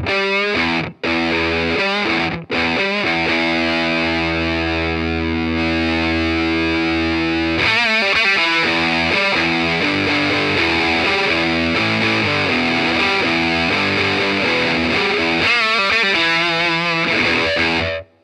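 Electric guitar through fuzz plays a rock song, first a sustained distorted chord sound with brief breaks, then heavier full fuzz riffing with dense buzzing overtones, loud and close without talk.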